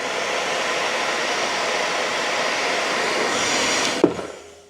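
Household hair dryer blowing hot air to warm the VHB adhesive on a motorcycle helmet chin mount, a loud steady whooshing whir that runs for about four seconds before a click and spin-down.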